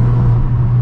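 Exhaust of a Mercedes A35 AMG saloon with the back box removed, a loud, deep, steady drone that holds level for nearly a second before cutting off abruptly.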